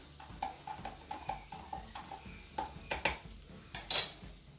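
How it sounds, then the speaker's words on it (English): Metal utensils tap and clink against a pan as stock goes into frying mushrooms for chicken and mushroom risotto, a quiet run of light knocks that ends in a few louder clatters. "So I am now going to add my 450 ml of stock with one stock cube."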